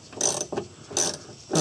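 A ratchet fitted with an 8mm socket drives screws into a Volkswagen Jetta rear inner door panel, three quick bursts of clicking pawl strokes heard close up with short pauses between.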